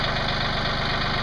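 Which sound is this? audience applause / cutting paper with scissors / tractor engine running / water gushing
tractor engine running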